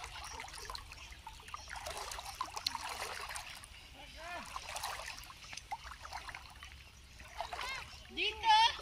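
Water trickles and splashes in a stream in the middle of the Saudi desert, a steady close watery babble with small splashes, heard under a person talking throughout.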